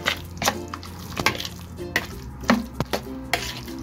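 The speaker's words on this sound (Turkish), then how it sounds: "Şu anda bunları bir karıştıralım." Eggplant salad (babaganoush) dressed with olive oil is stirred in a bowl, making soft, irregular clinks and wet scrapes of a utensil against the bowl at close range with no talking.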